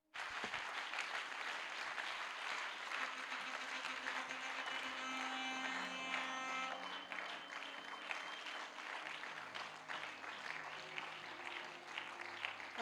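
Church congregation applauding and acclaiming during a French-language worship service, a steady dense wash of clapping and cheering throughout with sustained tones and voices mixed in.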